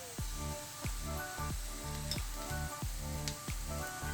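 Wilted ingredients for a whole chicken dish sizzle steadily in a pressure cooker while a spoon scrapes through them in regular strokes about every half second, close and continuous.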